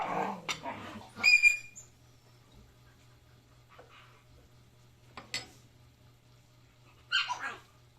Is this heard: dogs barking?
yes